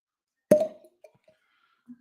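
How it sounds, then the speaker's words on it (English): A cork pops once, sharp and close, from a bottle of Jack Daniels 14 whiskey, followed by a couple of faint soft knocks in an otherwise quiet room. "Strong cork pop."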